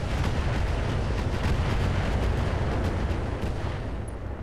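Incendiary missile explosions from an attack in the video game Roguetech, a dense, continuous barrage of booming blasts and rumble that stays loud throughout, with no talk.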